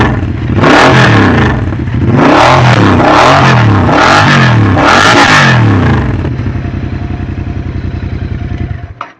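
Royal Enfield GT 650 parallel-twin fitted with an AEW aftermarket exhaust, revved hard four times in close succession with a deep rising roar, then dropping back to a loping, burbling idle.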